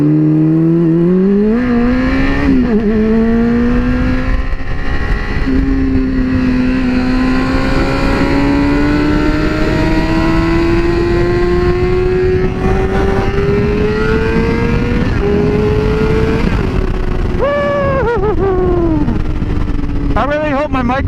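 A car accelerates hard up an on-ramp, its engine note climbing steadily through the gears with a brief shift dip, loud and close throughout, a voice speaking over it at moments.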